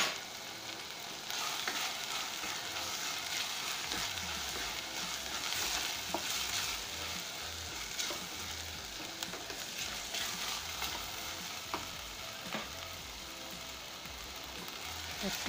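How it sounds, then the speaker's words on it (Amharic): Onion with turmeric stirred and sautéed in a pan for a split pea alicha stew, a steady sizzling fry with scraping stir strokes running throughout, close and fairly loud, no voices. "በደንብ አድርጌ አማስላለሁ በደንብ አቁላለሁ"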